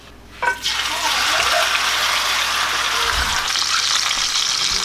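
Food searing in a hot pan: after a brief quiet moment a loud, dense sizzle bursts in and holds steady and close for several seconds.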